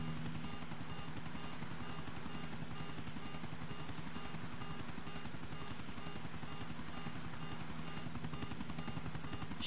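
Helicopter rotor thumping steadily as the aircraft takes off in GTA 4 online, a loud, continuous chop with a droning engine whine and no voices.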